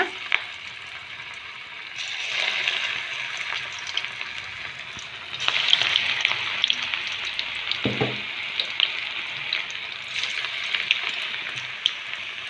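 Bottle gourd pakodas fry in hot oil with a steady, dense crackling sizzle that swells louder as fresh batches go in, with a brief clatter near the middle; no talking.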